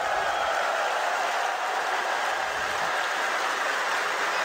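Large arena crowd at a Counter-Strike esports match in Krakow, with a dense, steady roar of cheering and applause that fills the whole stretch.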